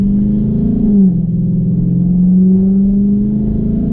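A Dodge Charger 392 engine heard from inside the cabin, a steady low drone whose pitch dips near one second as a paddle-shift upshift lands, then rises gradually again under acceleration.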